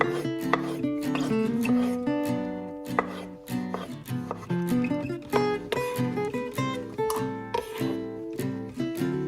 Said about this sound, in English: Start this recipe by dicing or chopping the tomatoes into small pieces.